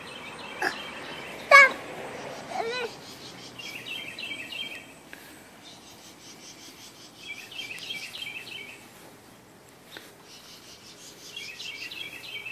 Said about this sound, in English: Is that birds? Hear the birds?